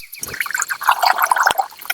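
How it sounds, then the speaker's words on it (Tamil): Water poured over kalli mulliyan village greens for boiling, a short splashing and dripping pour with uneven liquid patter, close and fairly loud for about two seconds. "தண்ணி ஊத்தி கள்ளி மல்லியான வேவிச்சுக்கலாம்பா."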